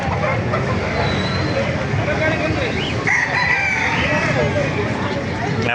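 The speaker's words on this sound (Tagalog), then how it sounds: "Napakaraming manok dito." Roosters crow among many chickens at a farm with pumpkin hatch gamefowl, mid-distance calls over a steady background of clucking flock noise, with someone talking throughout.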